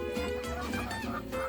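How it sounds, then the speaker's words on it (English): Red Ranger meat chickens cluck softly in their coop, a short burst of faint, overlapping low clucks and murmurs. "Red Ranger chickens, Red Ranger meat chickens"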